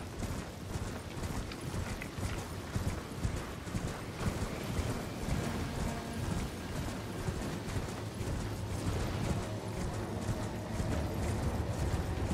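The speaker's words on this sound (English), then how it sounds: "horse. Horse." Horse hooves clip-clop steadily in the video game Elden Ring, a continuous rhythmic patter over a windy, rushing background with no talk.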